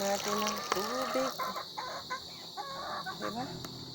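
Chickens cluck and squawk close by in a rapid, uneven series of calls, with a steady insect-like hiss in the background.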